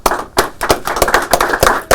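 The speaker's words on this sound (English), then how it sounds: "Clap for your" Several people clap for a dad at a police appreciation segment: loud, uneven individual claps come in bursts with short gaps, close and alone, with no talk over them.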